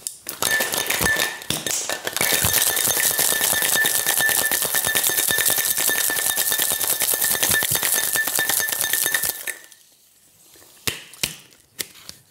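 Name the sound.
shaking a coffee cranberry cocktail with ice cubes in a shaker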